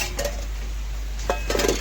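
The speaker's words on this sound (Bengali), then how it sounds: "নাড়াচাড়া করে আমি আবারও 1 মিনিট ঢাকা দিয়ে দেব" Lid set onto a cooking pot of ridge gourd with potato and soya chunks, a few light metallic clinks and taps spread across a quiet, low background hum, no voices.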